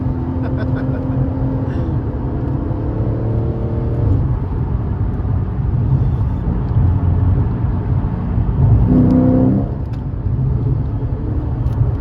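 A Lexus RC F engine tuned to about 1200 horsepower rumbles and revs close by in traffic, its pitch rising and dropping through downshifts over a steady low drone.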